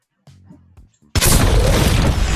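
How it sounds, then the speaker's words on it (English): An explosion effect added to footage of a hot air balloon erupts about a second in as a sudden, loud, broadband blast that sustains as a roaring rumble, preceded by softer, brief murmuring sounds. "I want to add an explosion, let's say, to this hot air balloon."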